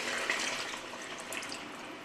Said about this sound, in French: On rajoute de l'eau.